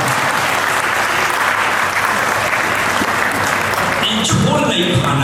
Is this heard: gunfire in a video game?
no